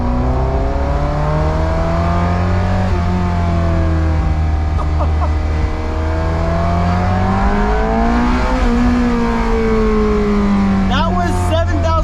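A manual Ferrari 348 with no catalytic converter revs hard in first gear up to 7,000 RPM, its loud engine note climbing and falling in long sweeping pulls, heard from inside the car with a sharp burst near the end.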